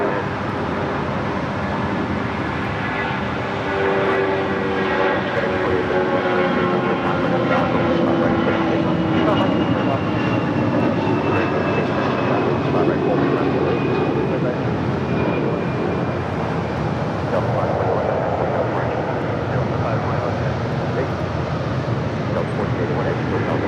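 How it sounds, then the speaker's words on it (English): A Delta Airlines A320 departs LAX, its jet engines giving a loud, continuous roar that builds slightly and persists throughout, heard from a distance on the airfield. "Next departure heading to Dallas, Fort Worth, Texas. Delta Airlines Flight 521."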